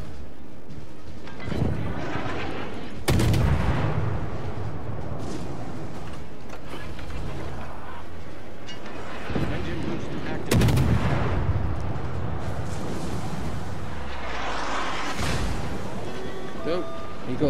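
Warship guns firing in the naval game World of Warships come as heavy booming salvos at about 3 and 10.5 seconds. Between them are other thuds and a continuous rumbling battle background.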